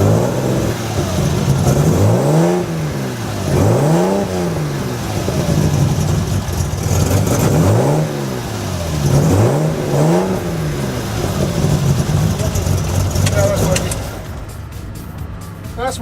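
A race car engine revs in repeated rising and falling sweeps, about five strong bursts roughly two seconds apart, loud and close, with people talking over it.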